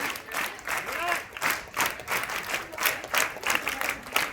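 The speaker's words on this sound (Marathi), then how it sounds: "आधी टाळ्या वाजवायच्या, नंतर घोषणा द्यायची" Scout and guide students at a school annual prize-distribution ceremony clap in rhythmic bursts, a pulsing, fairly close group clap with a voice speaking in between.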